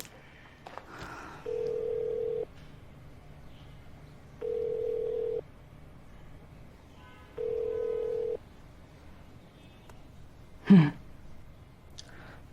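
A telephone ringback tone sounds three times in steady, evenly spaced beeps, followed by a brief thud.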